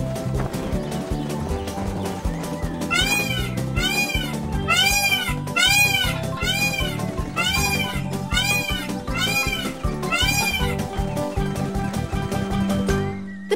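Jungle cats meowing in a series of repeated, loud, wavering calls over a dense bed of background music, the cries coming in a steady rhythm through the middle of the scene.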